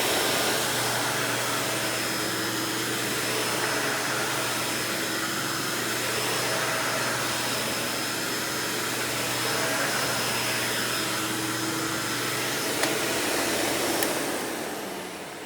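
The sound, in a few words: Dirt Devil 7200 upright vacuum cleaner motor running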